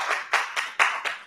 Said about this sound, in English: save your clapping for after